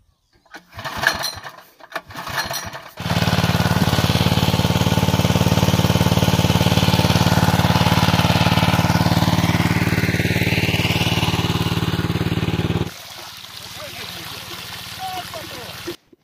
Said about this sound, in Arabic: دابا نقولوا بسم الله وبنديمارو الموتور ديالنا ونمشيو للماء